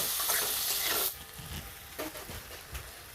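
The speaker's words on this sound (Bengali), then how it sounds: "এবার কুচিয়ে রাখা পেঁয়াজ তেলের মধ্যে দিয়ে দেবো পেঁয়াজটাকে আমি তেলের মধ্যে ভালো করে নেড়ে চেড়ে ভেজে নেব" Chopped onion fries in hot oil, giving a faint steady sizzle with scraping stirring strokes in the pan; the hiss is brighter at first, then drops lower.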